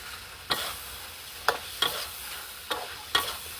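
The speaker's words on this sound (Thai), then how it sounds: "อันนี้กำลังผัดจะสุกเลยด้วยจ้า" Food stir-fried in a pan: a steady sizzle under five sharp scraping strokes of a utensil, spaced unevenly over a few seconds and heard up close.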